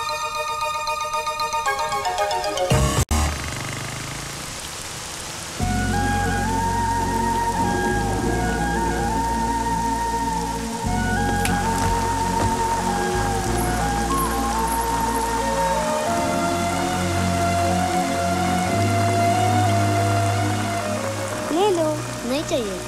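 Steady rain falling in an outdoor film scene, a dense continuous hiss that runs throughout, mixed with loud background music.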